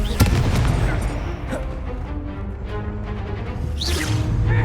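A Confringo spell blast in the game Hogwarts Legacy: sharp booming impacts with whooshing bursts, one strong hit early and another swelling near the end over steady game background.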